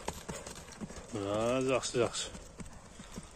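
A horse's hooves clop in light, irregular steps at close range, with a man's short spoken word and a drawn-out voiced sound over them partway through.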